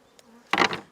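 Bees at an open hive being worked without a smoker: a short, close buzzing burst swelling briefly and fading, preceded by a faint hum.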